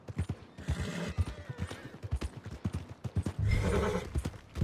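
A horse whinnies amid steady hoof clip-clops, with a second, louder neigh near the end; the hoofbeats sound close and rhythmic. From the video game Red Dead Redemption 2.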